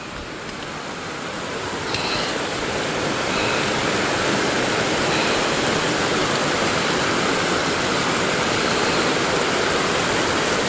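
A stream crossing a backpacking trail rushes steadily, a broad close-up wash of flowing water that swells slightly in the first seconds and then holds continuous, with no voices.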